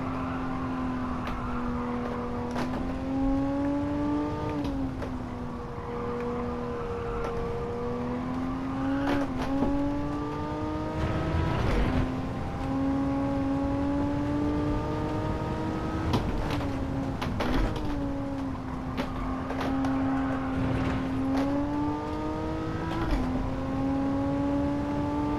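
Porsche Carrera RS engine in Gran Turismo 7 running a full lap, a steady loud drone whose pitch climbs and drops through repeated gear shifts, with brief clicks and tire noise scattered throughout and no talking.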